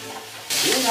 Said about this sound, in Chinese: 排骨下锅